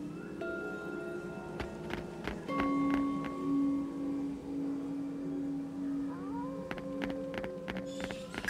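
A cat in the Shining Resonance video game meows several times in short, clear calls over soft game music and background tones.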